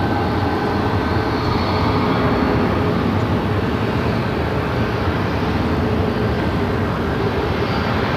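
A Southwest Boeing 737-800 arriving on runway 8 at Phoenix airport: a loud, continuous, broadband jet roar that holds steady throughout, heard close and alone without voices.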